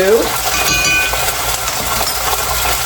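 Onion hits a too-hot pan while salmon is being cooked, producing a loud, bright sizzle and crackle with scraping stir sounds, steady across the whole stretch and heard alone.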